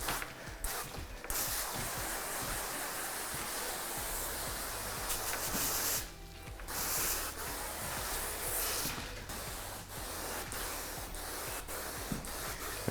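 A steady broadband hiss of fine water mist from an Ace hand pump sprayer over a countertop, spraying almost continuously with a couple of brief pauses, close and fairly loud.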